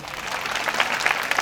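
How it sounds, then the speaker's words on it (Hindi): A crowd at a Chhattisgarh stage show claps together in a dense, continuous burst of applause, close and fairly loud, with scattered sharper claps standing out. "अच्छा दोनों मिलके बजाओ ताली"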